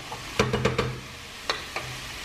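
Ground meat spread in a pot over fried bacon and calabresa sausage for arroz de barranco, giving a few close scraping and tapping stirs against a faint sizzle.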